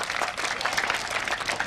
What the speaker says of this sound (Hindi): उस सहयोग के लिए एक बार जोरदार तालियां बनती हैं